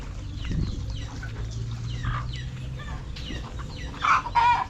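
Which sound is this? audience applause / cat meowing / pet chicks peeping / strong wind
pet chicks peeping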